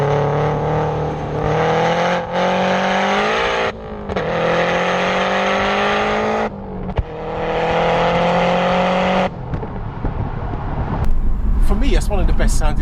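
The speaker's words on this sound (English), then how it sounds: "A Subaru on full tap just sounds nice" A tuned 530bhp Subaru hatchback boxer engine revs hard at full throttle, loud and close, rising and dropping in pitch through several pulls with brief gaps between them, ending in quieter rumble.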